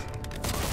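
Gunshots in the Mafia II: Definitive Edition video game during a jewellery store heist shootout, a dense, loud burst of rapid firing filling the moment with no talk.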